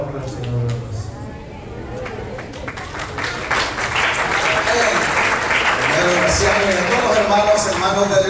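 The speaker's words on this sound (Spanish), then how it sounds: "Denle un aplauso al Señor, gloria a Dios" Applause from a church congregation swells from a brief spoken moment into full, sustained clapping, with voices still audible under the crowd.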